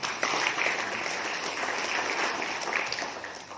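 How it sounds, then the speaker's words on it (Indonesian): Audience at a Hanura party inauguration in Yahukimo, Papua, breaking into dense, continuous applause that holds at an even level throughout, with no voices standing out. "Tepuk tangan dulu."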